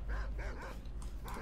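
Dogs barking in the video game S.T.A.L.K.E.R. with the StalkerSoup mod, a quick series of four or five rough, mid-distance barks, fairly quiet against a low rumbling background.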